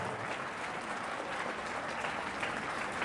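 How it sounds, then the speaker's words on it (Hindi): A college audience applauds at an annual function, a dense, even wash of many hands clapping steadily throughout with no break. "इसलिए एक बार इस पूरी टीम के लिए, जो शेषशाही महाविद्यालय शिक्षकों की टीम के लिए जोरदार तालियां बजाएं"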